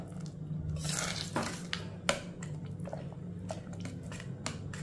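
Wet squishing and soft clinks as cooked green gram and vegetables are stirred together in a pot for pearl millet porridge, with a steady low hum in the background.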